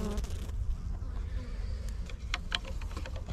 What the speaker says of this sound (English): The bees working in there.